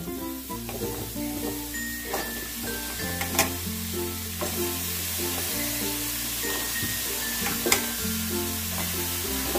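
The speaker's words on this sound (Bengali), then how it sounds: "অল্প তেল দিয়েই আমি রান্না করি। এবার আমি লাউগুলোকে দিয়ে দিচ্ছি" Bottle gourd pieces frying in a little oil give a steady, close sizzle with stirring scrapes throughout, under soft background music.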